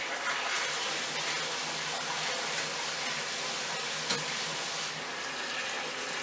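Water runs steadily from a tap into a vessel for an electric brew day of an ESB, a constant bright hiss and splash with little variation throughout.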